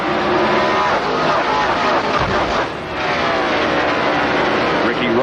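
Race cars roar around the track at the 1997 Brickyard 400 at Indianapolis, a dense continuous engine howl with pitches shifting as cars pass, staying loud throughout and dipping briefly midway, with an announcer talking over it.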